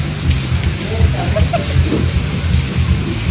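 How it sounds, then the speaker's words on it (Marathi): Heavy rain pours at a resort with thunder rolling through, a dense constant roar of downpour over deep rumbling swells, loud and unbroken from start to finish. "पावसात भिजले पूर्ण."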